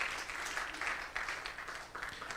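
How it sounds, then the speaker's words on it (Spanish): A church congregation applauds during a Spanish-language sermon, a soft, steady wash of many hands clapping at a distance, fairly faint throughout. "Denle ese aplauso a Cristo"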